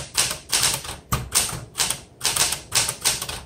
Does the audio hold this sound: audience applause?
no